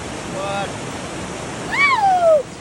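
The Ganga river flows between Gangotri and Kedarnath in a steady, loud rush of water that fills the whole clip, with a brief voice rising over it near the end.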